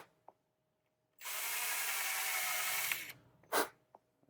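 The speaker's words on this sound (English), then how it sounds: "I'll actually drill that out a little bit." A power drill whirs loudly for about two seconds, boring a hole, then stops, followed by a brief second burst and small clicks.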